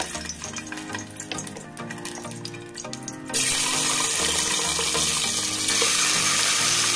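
Eggs drop into hot oil in a pan and start frying, a sudden loud, steady hiss and sizzle that replaces the quieter kitchen clatter before it.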